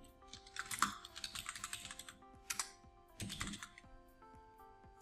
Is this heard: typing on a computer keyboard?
yes